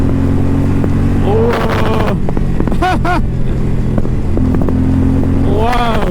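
Indian Challenger bagger motorcycle with an award-winning engine, its deep steady idle stepping up into loud revving bursts, with a brief exclamation from a rider over the engine.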